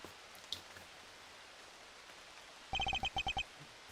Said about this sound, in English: It's raining out.